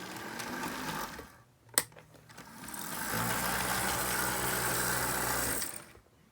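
A small HO scale Santa Fe SD45 model locomotive motor whirs and hums steadily, loud and close, after a sharp click, running continuously for several seconds before cutting off.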